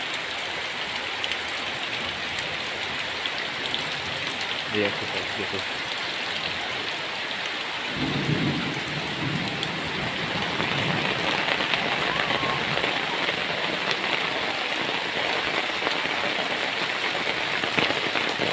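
Heavy rain pouring down in the village of Citerep, a steady, dense hiss of rain on surfaces throughout, with a brief louder rustle partway and someone speaking a few words over it.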